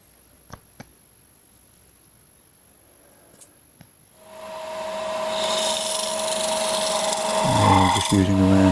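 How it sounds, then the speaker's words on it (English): A round nose scraper faces off cured clear epoxy on a clock, starting after a quiet stretch with a few faint taps, then a continuous close rasping scrape that grows louder toward the end. "Just using a round nose scraper just to face off the epoxy."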